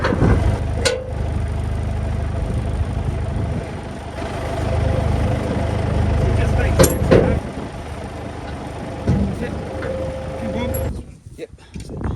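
A tractor engine idles steadily nearby while it is hitched to a farm implement on a muddy homestead, a low, continuous rumble under intermittent voices and a few sharp clanks.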